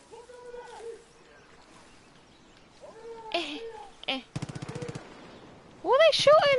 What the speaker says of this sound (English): Who are they shooting now?